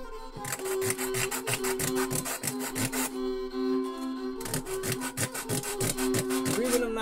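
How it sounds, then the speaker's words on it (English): A wooden bridge for a fiddle lyre is sanded by hand in steady back-and-forth rasping strokes, regular and close, with a brief pause midway, over a faint background hum. "Now I'm just gonna keep sanding it until we have enough area"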